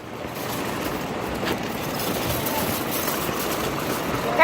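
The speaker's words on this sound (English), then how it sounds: "There's a truck behind you." A truck engine idling nearby on a Hoboken street, a low steady rumble that holds level and rises slightly at the end.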